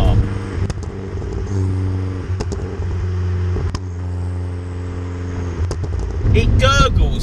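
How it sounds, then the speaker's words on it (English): A Fiat Punto Abarth with a TMC engine map idles with a deep, steady exhaust drone, broken by several sharp gurgling crackles and a short rising rev near the end. "it gurgles more than it pops"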